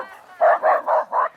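A mixed-breed dog barks four times in quick, evenly spaced succession, close and fairly loud, after a brief faint whine, out on a neighborhood walk past shops.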